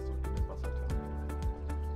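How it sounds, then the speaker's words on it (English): Antifreeze drains out of a frost protection system's suction chamber and filter back into its water tank, a steady liquid gurgle with repeated drips and splashes at a fairly even rhythm, close and with no talking. "The antifreeze now flows out of the suction chamber and filter back into the water tank."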